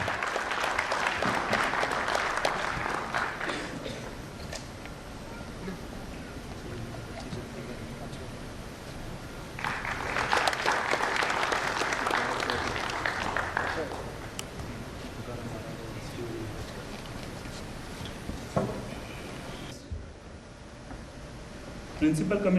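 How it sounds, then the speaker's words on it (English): Two spells of audience applause at a national conference session in Pune, greeting the chief guest, a Principal Commissioner of Income Tax, with a speaker talking over the hall between them. "Round of applause for our very own chief guest."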